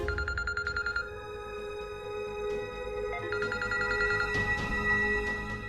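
A telephone rings with repeated electronic trilling bursts over a tense dramatic music bed, the ringing pattern recurring several times at steady volume.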